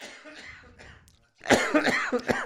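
A few quiet sounds, then a burst of several harsh post-COVID coughs in quick succession, close and fairly loud.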